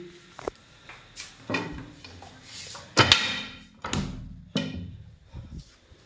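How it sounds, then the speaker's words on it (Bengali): A household door is opened in a home during rainy weather, with several knocks, creaks and thuds spread across the moment, one louder bump near the middle, and faint background noise. "চলো এদিকে দরজাটা খুলি।"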